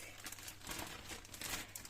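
A plastic bag holding frozen homemade syrniki being folded in a kitchen, giving a continuous close crinkling and rustling of plastic through the whole clip.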